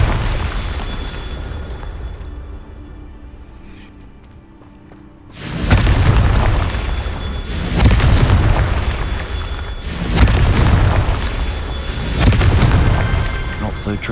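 A Confringo blasting spell in the Hogwarts Legacy video game goes off as a series of heavy booming explosions, roughly every two seconds after a quiet stretch, each one loud with a rumbling low tail.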